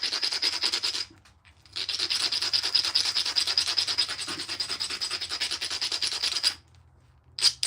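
Stone tool being ground against an abrasive surface, a steady close rasping scrape lasting several seconds, a brief pause, then more grinding, with no talk.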